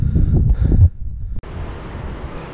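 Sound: strong south wind on the Crozon peninsula coast

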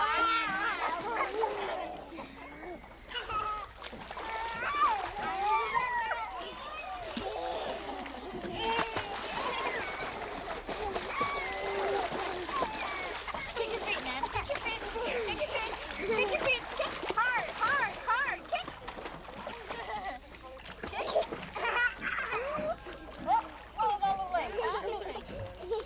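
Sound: people kicking and splashing in lake water

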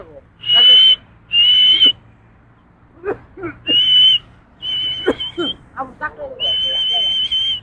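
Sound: whistle blown to call pigeons back

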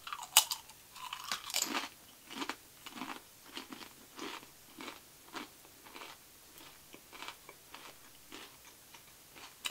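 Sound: crunching veggie kale carrot spinach dipping chips

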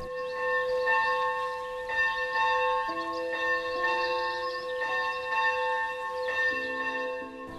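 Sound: morning church bell at Agapia Monastery

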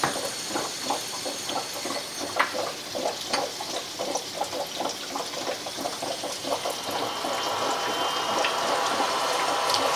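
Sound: oxyhydrogen gas diffusing from a stone into water

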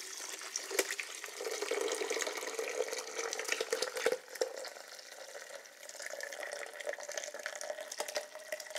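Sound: pouring soup

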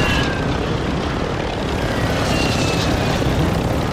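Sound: helicopter flying in video game Call of Duty

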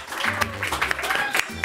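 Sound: audience applause

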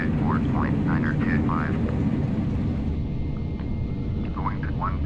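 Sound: airliner engines in the video game Flight Simulator X

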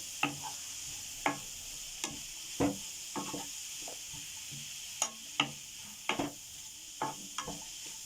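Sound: stirring chicken pieces into a mixture in a pan

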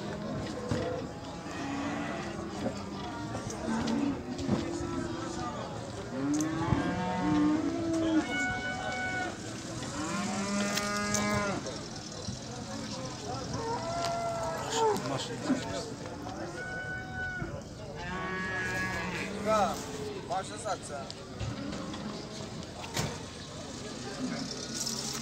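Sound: cattle mooing at a livestock market

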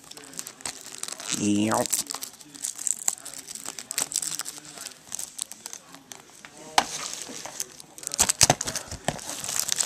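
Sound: cardboard package being opened, plastic crinkling

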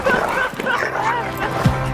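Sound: dog barking and whimpering

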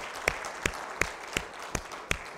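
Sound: congregation applauding in church

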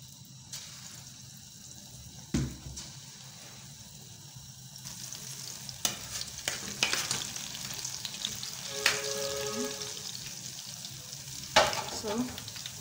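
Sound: banana balls deep frying in oil

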